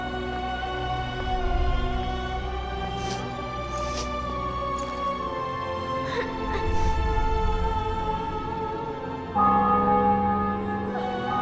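Church bells toll in The Witcher 2 after a city and fortress are taken, ringing in sustained overlapping peals with a low rumbling bed of game music, several bright strikes standing out and a fresh bell entering near the end.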